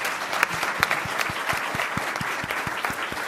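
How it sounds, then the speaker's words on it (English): An audience applauds the speakers at a newsroom-culture talk, a dense, steady burst of many hands clapping with a few sharper individual claps, moderately close. "Please join me for one more round of applause for both of our speakers."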